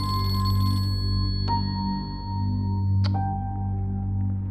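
A telephone rings unanswered indoors, two electronic ring bursts about a second and a half apart over a steady low hum, with no voices.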